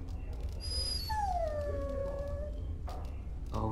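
A dog in the Dragon Age: Origins video game whimpers and lets out a long, sliding, mournful howl, loud and close, with faint game ambience underneath and no talking.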